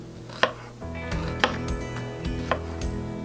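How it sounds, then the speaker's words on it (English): Kitchen knife finely mincing a medium-sized onion on a wooden cutting board for homemade baked beans, with three sharp, close chopping knocks about a second apart over a low background hum. "Now I'm gonna cut me a medium-sized onion"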